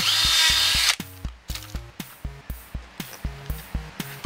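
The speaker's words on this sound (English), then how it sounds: "get this drill in." A power drill bores into the base of an ash tree outdoors, a loud whine at first, then a series of about seven short, regular revving bursts.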